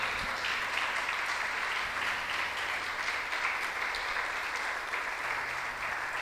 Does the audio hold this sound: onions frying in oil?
no